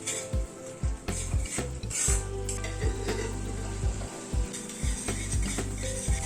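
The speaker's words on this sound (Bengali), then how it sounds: "কাজু বাটাটা দিয়ে একটুখানি নাড়তে হবে" Cashew paste is stirred into a sizzling masala in a cooking pot, with repeated rhythmic scraping strokes of a spoon against the metal over a steady frying hiss, close by and without talk.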